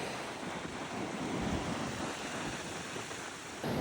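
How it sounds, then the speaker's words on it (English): Ocean surf rolls and washes steadily along the rocky Oregon coast, a dense continuous roar with wind buffeting the microphone. "I'm waiting for these waves to come in"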